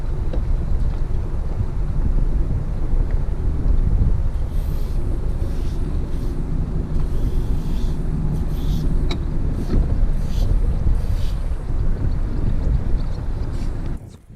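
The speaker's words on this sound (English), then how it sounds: "Windy out today" Wind buffeting the microphone outdoors, a continuous low rumble with faint higher rustles drifting in and out.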